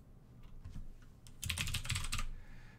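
Clacking keystrokes on a computer keyboard, sparse taps at first, then a fast dense burst of typing, close and fairly loud.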